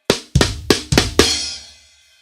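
A quick drum fill of five flammed hits moving across floor tom and snare, ending on a crash cymbal that rings out and fades.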